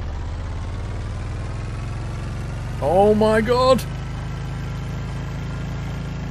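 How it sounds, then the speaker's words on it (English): A video game engine in Stranded Deep drones steadily like a lawnmower, a constant low rumble throughout, with a brief excited shout over it midway. "It literally sounds like a lawnmower."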